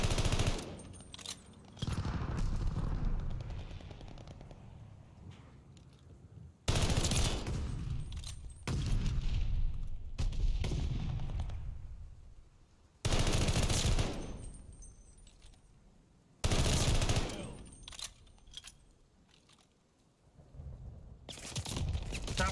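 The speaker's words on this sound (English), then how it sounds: "Friendly sending an airstrike." Call of Duty Hardpoint match with repeated loud bursts of gunfire and explosive airstrike blasts, several heavy impacts spaced through the clip with rattling fire and decaying rumble between them.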